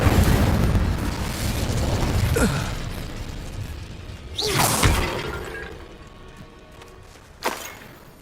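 An Incendio fire spell goes off in the Hogwarts video game: several sharp bursts and whooshing blasts of flame stand out against a noisy, crackling background, with one big burst near the middle and a smaller pop toward the end.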